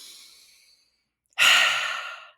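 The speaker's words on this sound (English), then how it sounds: "take a big breath" A single deep breath: a soft, faint exhale trails off, then after a short silence a loud, full inhalation or sigh rises sharply and fades over about a second.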